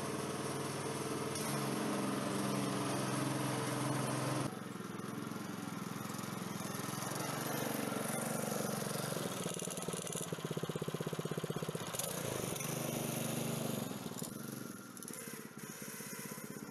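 A 13-horsepower engine on a homemade mini tractor loader running close by, giving a loud, continuous mower-like drone whose pitch and load shift a few times across the stretch, with no talking.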